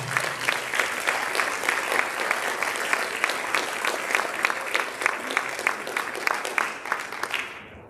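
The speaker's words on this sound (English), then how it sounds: "Please, a big round of applause." An audience at a school district board meeting and retirement ceremony applauds a retiring volleyball coach, a full, steady clapping that holds for several seconds before stopping abruptly.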